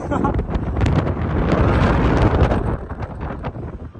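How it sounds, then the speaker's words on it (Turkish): Strong wind roars and buffets the microphone continuously at the top of a 230-metre television tower at night, loud and close, with people's voices mixed in underneath. "Ama çok fena rüzgar vuruyor"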